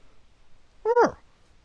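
A bobcat at a wildcat sanctuary gives a single short, rising-then-falling meow-like call, close and clear against a quiet background.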